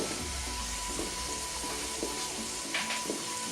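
Bacon and chopped onions frying in a pan make a constant close sizzle with a few soft stirring scrapes and a steady underlying hum.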